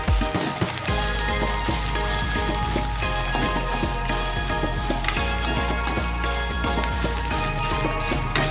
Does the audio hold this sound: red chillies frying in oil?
yes